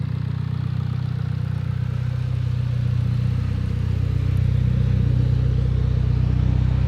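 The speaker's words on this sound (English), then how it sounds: "Outside, idling super, super smooth." A Mitsubishi Evo X being rebuilt after sitting abandoned idles outdoors, its engine holding a smooth, steady low hum, close and constant, with no talking over it.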